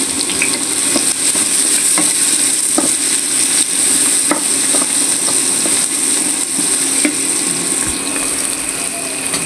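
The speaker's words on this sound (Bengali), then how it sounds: "এখন বড়িটা আমি ভেজে নিচ্ছি" Bori, small lentil dumplings, frying in hot oil, with a dense steady sizzle and crackle broken by scattered sharp pops and spatters. Close and loud, with no speech.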